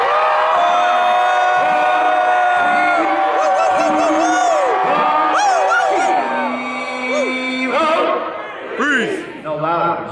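A large crowd screams and whoops loudly together, sustained yells and shrill cries rising and falling, close and overwhelming.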